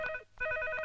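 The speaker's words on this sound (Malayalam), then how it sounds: "ഫോൺ എടുക്ക്." A telephone rings with a short electronic trilling burst, a brief pause, then the ring resumes, faint and close in a quiet room.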